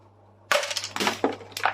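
A hammer knocks through rock hardscape in a 400-litre planted aquarium, a sudden close crack followed by a rapid series of sharp, clattering hits and crumbling breaks after brief quiet.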